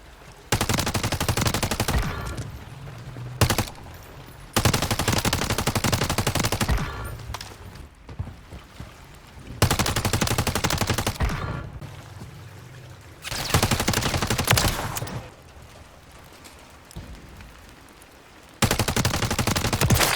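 Holger 26 automatic fire in Warzone 3: long sustained bursts of rapid shots, loud and close, separated by short quiet gaps.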